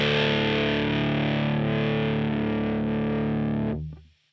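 Electric guitar with its bridge pickup, volume and tone all up, played through a Sonicake Fazy Cream fuzz pedal at low gain. A loud, thick, sustained fuzzy chord rings on its own for nearly four seconds before being cut off abruptly.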